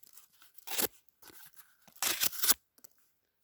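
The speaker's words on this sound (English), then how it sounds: "cut some cardboard." A sharp, lightweight everyday-carry knife with a 1095 carbon steel blade slices through cardboard in two rough tearing bursts, close and dry, with quieter scraping between them and no speech.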